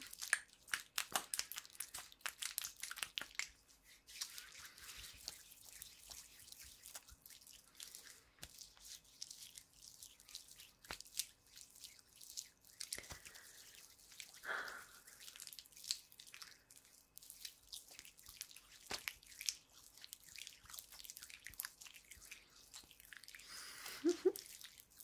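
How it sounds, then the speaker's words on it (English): Hands massaged with moisturizing cream, soft close squishing and slick rubbing sounds in a quiet, intimate setting, with faint irregular wet smacks throughout. "I'm not gonna stop massaging your hands with this cream until it's all soaked into your skin"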